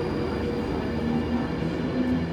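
A Virgin Trains class 390 pulls out of Wigan North Western station with a continuous low rumble and faint steady tonal whines from the motors and wheels, heard close by and without voices.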